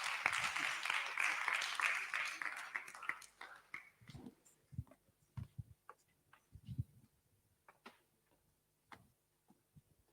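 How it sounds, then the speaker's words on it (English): Applause at a conference rises and then fades out over a few seconds, leaving scattered faint taps, thumps and room noise in a quiet hall. "So a round of applause for Honorable Justice Oji."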